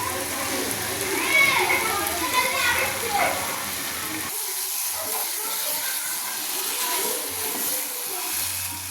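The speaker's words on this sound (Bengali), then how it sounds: "এবার জল দিয়ে দেবো, দেখছেন।" Water poured into a hot pan of sautéed curry sends up a broad, hissing sizzle that swells and then settles into steady bubbling, with voices heard in the background.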